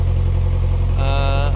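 A narrowboat engine idles with a loud, deep, throbbing drone close by, and a metallic ringing rattle rises over it for about half a second.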